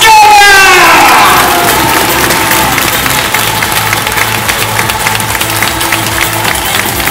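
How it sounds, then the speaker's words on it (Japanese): A large stadium crowd applauds and cheers as a football midfielder is introduced at a player talk event, a dense sustained roar of clapping and shouts that opens with an announcer's voice and then carries on alone. "皆さん大きな拍手でお 迎え ください"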